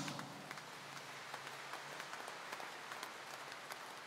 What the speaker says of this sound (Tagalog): Kaya maaari bang pumalakpak ng malakas